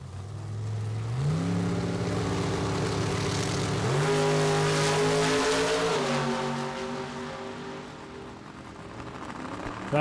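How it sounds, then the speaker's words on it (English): Door cars launch and accelerate hard at a drag racing event, engines climbing in pitch through rising stepped gear shifts, loud and continuous before fading as they pull away down the strip. "Here we go, door car drag racing."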